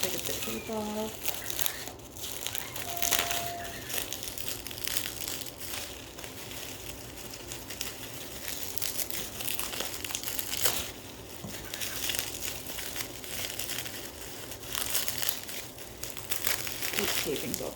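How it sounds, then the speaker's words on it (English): Tape being peeled off a package of prototype Anki robots during an unboxing, with crinkling, tearing and crumpling of packaging and bubble wrap in irregular bursts under a person's talking. "The last one in this pile, I'm gonna take the tape off."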